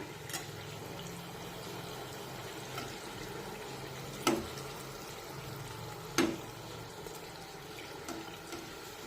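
Poha puri frying in hot oil in a pan over a medium flame gives a soft, continuous bubbling sizzle at low volume, broken by two brief knocks.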